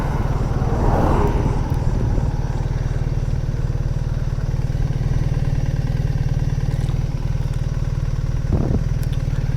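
A BMW R 1300 GS Adventure motorcycle engine runs steadily in first gear, a constant low mechanical drone with faint clatter, close and fairly loud throughout with no talking.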